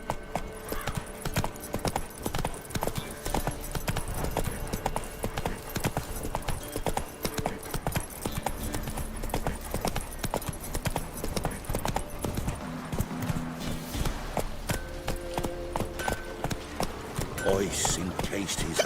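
Horse hooves clip-clopping at a steady gallop in The Witcher 3 video game, continuous throughout alongside game music and a voice talking over it.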